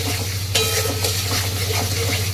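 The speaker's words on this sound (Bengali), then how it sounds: "এবার এটাকে ভালো করে একটু কষিয়ে নেব।" Fish, fish roe and potatoes, fried earlier with turmeric and salted, are stirred in a hot pan with a continuous broad sizzle. A sharp scrape lands early, followed by softer stirring strokes, all close.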